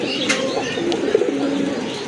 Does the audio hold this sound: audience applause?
no